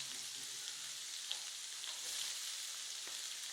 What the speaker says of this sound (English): Put my onions in. Boom. You hear that sizzle?